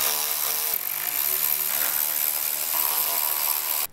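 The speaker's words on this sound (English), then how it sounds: "So we'll start up top with the four 10 millimeter bolts." A power tool backing out 10 millimeter bolts on a Toyota Tundra during headlight removal, a steady close buzzing whir that holds for a few seconds, then stops.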